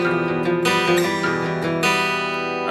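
An acoustic guitar plays a short riff of strummed chords and picked notes with a few distinct attacks, clear and close, no voices.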